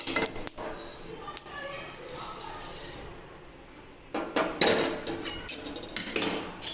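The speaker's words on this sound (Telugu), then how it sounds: "ఇవి కూడా మిక్సీ జార్లో వేసేస్తున్నానండి" A few sharp clinks and clatters as tomato chutney ingredients are dropped into a metal mixer jar, with soft background noise between the bursts.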